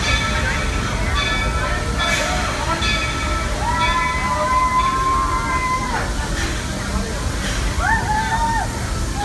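A Walt Disney World Railroad train pulls into Main Street Station, a constant close rumble and hiss of the moving cars carrying several high, drawn-out brake squeals.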